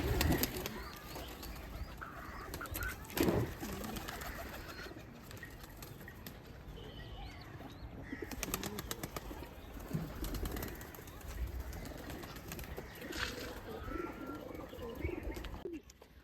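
Pet pigeons in a loft coo faintly and intermittently, with a low murmur of room noise and occasional soft voices.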